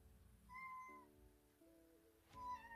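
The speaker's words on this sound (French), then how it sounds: "Excusez-moi, vous entendez mon chat." A cat meows a few times, faint and drawn out, with a quiet room and low background noise around it.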